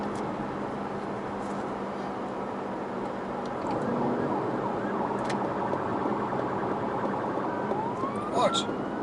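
A police car siren wails in the background of a road scene, rising toward the end with a sweeping tone above steady traffic and engine noise, fairly distant and partly masked.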